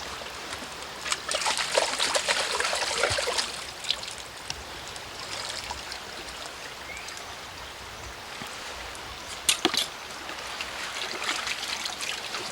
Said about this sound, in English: This is a Russian river.